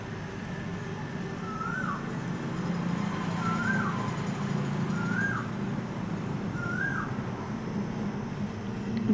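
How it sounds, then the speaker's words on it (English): Birds call from around a garden with crotons and chrysanthemums: a repeated short rising-falling call comes four times at a steady pace, mid-distance, over a constant low rumble of traffic. "Here so many birds are there."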